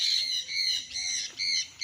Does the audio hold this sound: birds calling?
yes